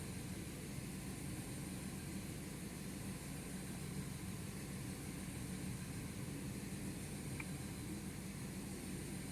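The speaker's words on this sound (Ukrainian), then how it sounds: "Двигун працює нестабільно." A Peugeot 3008 with a 1.6 EP6 petrol engine runs unevenly with a first-injector fault, giving a steady, close, droning hum that continues for several seconds with no talk.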